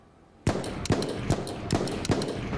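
Four loud, sharp gunshots from a cowboy revolver in the VR shooter Hard Bullet, spaced roughly evenly about half a second apart, each a hard crack with a short ringing tail, after a quiet start.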